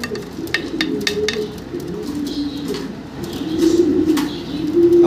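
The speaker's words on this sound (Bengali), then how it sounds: "অনেক বড় সাইজের কবুতরগুলা" Large pigeons kept as breeding pairs coo in low, rolling bursts, repeated steadily and fairly close, with a few faint chirps and flutters mixed in.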